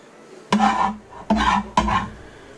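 Cilantro being ground into a Mexican salsa, probably in a stone mortar, giving three short rough grinding strokes with brief pauses between them, close and fairly loud, with no talking.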